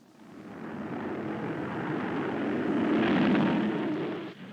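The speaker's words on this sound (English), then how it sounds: "Marineville Executive Jet Squadron overflying Marineville, sir." An executive jet squadron passes overhead as a broad, steady roar that swells toward the middle and fades slightly at the end, with no voices over it.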